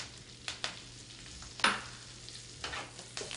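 Arugula and basil being sautéed in a pan for a gluten-free pizza and pasta dish, with a few scattered stirring scrapes and brief soft sizzles over a quiet hum, no one talking.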